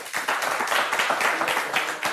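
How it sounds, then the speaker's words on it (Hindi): Audience applauding at a live show taping, a steady patter of many hands clapping together for about two seconds with no one speaking over it. "एक बार अपने लिए ताली बजा दो"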